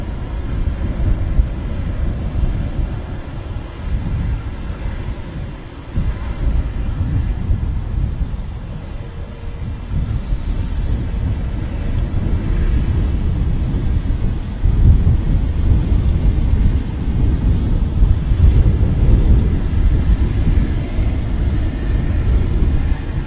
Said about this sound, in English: What a beautiful aircraft that is. An A350 1000.